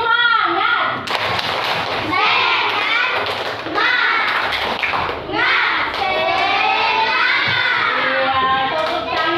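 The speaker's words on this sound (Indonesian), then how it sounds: "Iya, tepuk tangan." Classroom of children doing a rhythmic group clap, sharp hand claps and thumps in patterned bursts, with the kids chanting and shouting along between and over the beats.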